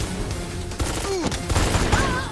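Rapid bursts of gunfire crackle through the Devil May Cry video game action, dense and repeated over a busy layer of game sound effects.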